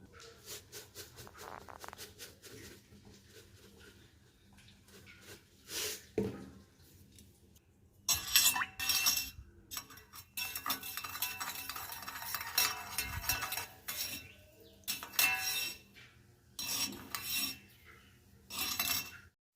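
A spoon clinks and stirs in a glass while salt-sugar water is mixed in a kitchen, with intermittent bright clatter in bursts over quiet room noise.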